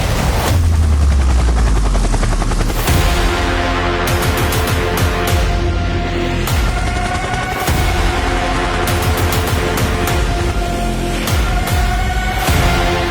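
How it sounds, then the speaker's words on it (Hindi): A Chinese Z-10ME attack helicopter, built by Changhe Aircraft Industries Corporation, thunders close and loud with continuous rotor chop and engine whine, joined by sharp bursts resembling gunfire, with no voices. "इस हैरान कुन ताकतवर हेलीकॉप्टर को चीन की चिंगाई एयरक्राफ्ट इंडस्ट्रीज कॉर्पोरेशन ने बनाया है।"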